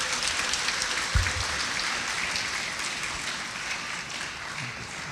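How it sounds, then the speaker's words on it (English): Faint audience applause after a Sunday religious class, a soft, diffuse patter of many hands that stays low and steady throughout, with a single brief louder knock near the start. "Can we get another round of applause for his class?"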